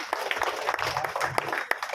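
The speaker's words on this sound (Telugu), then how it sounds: "చప్పట్లు కొట్టండి" Audience at a Dalit Mahasabha gathering clapping on cue, scattered individual claps building into light, uneven applause with distinct sharp hits standing out, fairly quiet and brief overall.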